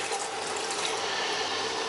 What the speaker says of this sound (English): So I add some hot water. It doesn't have to be boiled, it's just hot water from the tap.